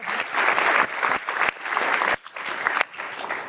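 Sustained audience applause fills a workplace presentation hall, dense and steady, with a brief dip and a few sharper individual claps standing out near the end.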